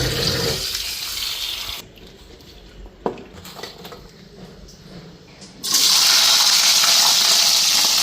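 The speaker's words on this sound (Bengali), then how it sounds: "আর এই যে সাজনাগুলি আজকে একদম টাটকা, একটু ভালো করে ধুয়ে আনি।" Fresh drumsticks are rinsed under a running tap in a home kitchen, the water gushing loudly at the start and end with a quieter stretch of handling and a brief clink between.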